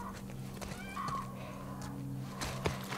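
A horse in the video game The Last of Us Part 1 gives a short neigh with a few clip-clop hoof sounds, close and moderately loud over a low ambient hum.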